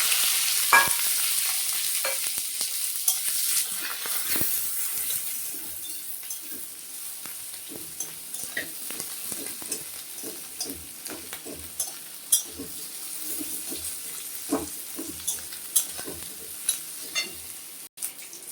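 Onion, garlic and chilli fry with black cumin in a pan, with a hissing sizzle that slowly settles and scattered clicks and scrapes from a stirring spoon. A voice is heard faintly at moments.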